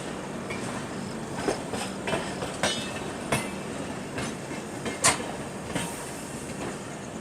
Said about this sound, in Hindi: सामने अभी ये झांसी रेलवे स्टेशन पे अराइव हो रही है मालवा सुपरफास्ट।